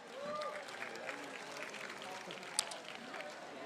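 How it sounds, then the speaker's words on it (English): Scattered applause rises from a crowd at the Gold Coast Marathon finish, fairly faint and distant, with voices murmuring underneath. "but still give her a round of applause."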